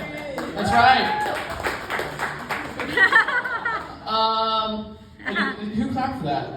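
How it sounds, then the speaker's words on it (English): Comedy club audience giving a brief scattered clap and laughter after a joke, mixed with the comedian's amplified voice talking over the room. "Who clapped for that?"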